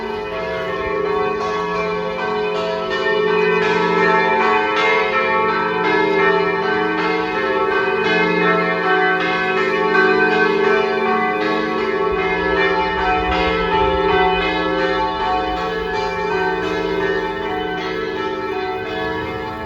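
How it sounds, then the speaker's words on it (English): Church bells along the Juliana Trail ring steadily and loudly with rich, overlapping tones that sustain throughout, with no voices present. "The church bells were just ringing."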